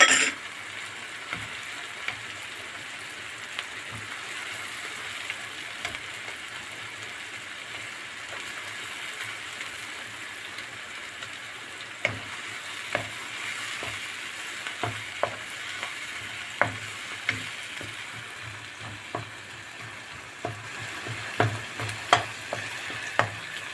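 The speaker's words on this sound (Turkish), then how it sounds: "soğanımızı iyicene kavurmaya bıraktık. Şimdi salçamızı ilave ediyoruz." Onions fry in a pan for a güveç stew as tomato paste is added, giving a steady soft sizzle broken by scattered clicks of stirring, with no talking.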